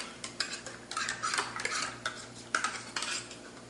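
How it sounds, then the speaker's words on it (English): A spoon stirs and scrapes leftover condensed soup around the inside of a metal can while making green bean casserole, giving repeated close scraping and clinking strokes with no talk. "Stir this up and get all the soup remnants out of this can before you put the milk in there."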